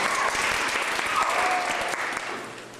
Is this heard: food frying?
no